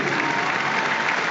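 Dense, continuous clapping from a big football stadium crowd at Middlesbrough's ground, applauding together in support of Ukraine during a Tottenham match.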